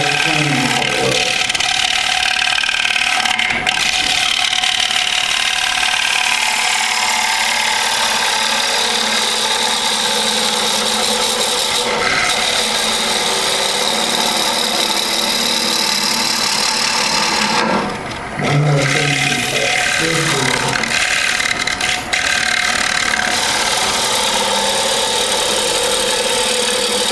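A wood lathe spins a turning while a gouge cuts on the bevel during a woodturning demonstration, giving a steady, loud whirring hum with a rough cutting texture that continues almost unbroken for the whole stretch.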